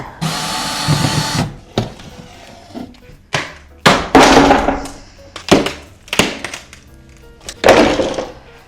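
Furniture being broken apart during a renovation: a series of loud, sharp cracks and thuds spaced a second or so apart, some with brief rattling, close and without speech.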